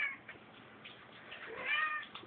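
Two house cats play-fight, and one lets out a strained meow and a few low grumbling cries, close and fairly faint, in a quiet room.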